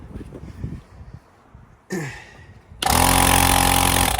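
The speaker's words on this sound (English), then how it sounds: "That's my air compressor, and that's to cut this on and off." An air compressor kicks on after a quiet stretch with a brief chirp, then runs loud and steady with a strong droning hum until the end.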